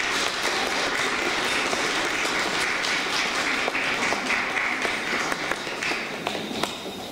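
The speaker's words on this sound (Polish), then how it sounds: "Brawa dla wychowawców." A crowd at a Polish high school prom ball claps steadily and densely for several seconds, a continuous wash of applause with no voices over it.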